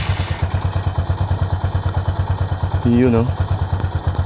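A motorcycle engine idling steadily during a tachometer installation test, a rapid even low thudding pulse throughout and close by, while someone speaks briefly over it.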